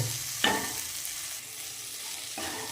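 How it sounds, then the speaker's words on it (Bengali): Potatoes frying in a pan, a low, faint sizzle broken by a couple of brief spoon scrapes as they are stirred, heard up close. "ওটাকে মিনিট দুয়েক আমরা এইভাবে নেড়ে নেব"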